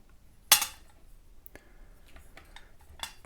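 A sharp metallic clink followed by a few lighter taps and knocks as a corroded brass kettle is handled, close and otherwise quiet.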